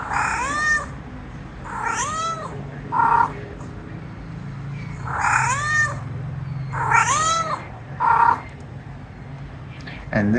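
Fujitsu LifeBook E457 business laptop speakers, 2017 model, playing back a recording of repeated cat meows, thin and bass-light, several cries spaced across the clip over a faint low hum.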